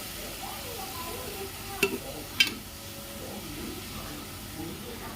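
Ginger garlic paste sizzles in a pan for beef gravy, a steady close frying hiss broken by a couple of sharp utensil taps as it is stirred.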